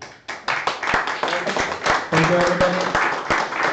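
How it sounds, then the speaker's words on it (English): Meetup audience claps for Alessandro at a tech talk on process mining, a sparse, uneven round of individual hand claps building into a steady patter, with a speaker's voice briefly over it. "So big applause to Alessandro, which was our bridge to Munich"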